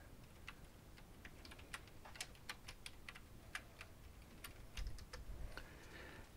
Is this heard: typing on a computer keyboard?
yes